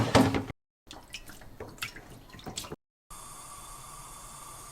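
Blanched garlic scapes dropped into cold water: a short splash and dripping, then a sink tap running steadily, with brief silent gaps between the sounds.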